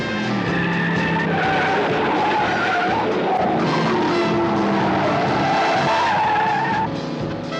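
Tires on a stolen Corvette squeal loudly and continuously as the car skids, with engine roar beneath the screeching pitch, close and sustained throughout.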